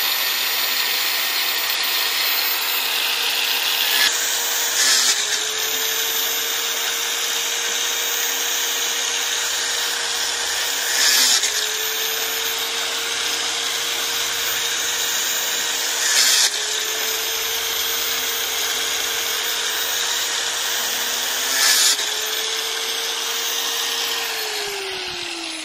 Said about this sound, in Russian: Режем арматуры.